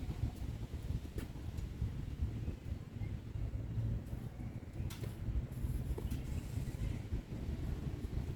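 Gusty wind blows steadily outdoors beside a Carrier rooftop HVAC unit, a continuous low rumble with buffeting on the microphone and a few faint creaks throughout.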